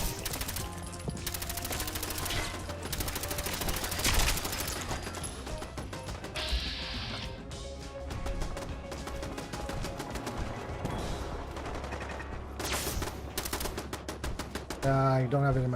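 Gunfire from a gun in the video game Fallout 4 crackles in rapid bursts and strings of sharp shots, loud and close, with brief pauses between volleys and a player talking now and then.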